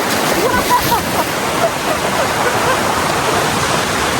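Rushing river water at the sixth stream crossing of a solo hike toward the Curug Cisadane waterfall: a loud, constant roar of flowing current fills the scene.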